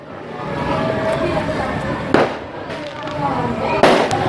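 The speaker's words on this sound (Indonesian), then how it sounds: "biarkan ada mercon ini" Firecrackers go off at a festive gathering of Islamic boarding-school students: two sharp, loud bangs a couple of seconds apart over a constant rumble of crowd chatter and distant crackling.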